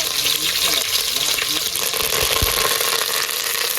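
Curry leaves sizzling in hot oil in a pan for Gujarati muthiya dhokla, a steady bright crackle and hiss with a few low bumps of handling, close and fairly loud.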